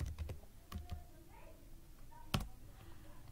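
Typing on a computer keyboard while building an Excel VBA sidebar menu: scattered sharp key clicks, a quick cluster at the start, a few taps near one second and a louder single strike later, close and fairly quiet.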